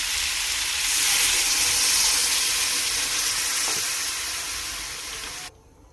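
Curry water poured into a pan of frying cauliflower and potato sets off a loud, close hissing sizzle that swells, slowly eases, then drops away abruptly near the end.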